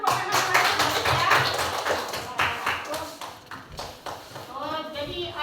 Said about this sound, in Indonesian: Boleh tepuk tangan lagi ya.